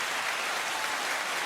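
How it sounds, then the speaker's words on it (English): Sustained applause as a short sound effect, a dense even wash of clapping that stays steady and fairly loud for its brief length, with no talk over it. "Oh, applause."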